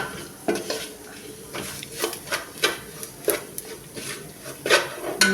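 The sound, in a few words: stirring turmeric into karimeen fish mappas in a pan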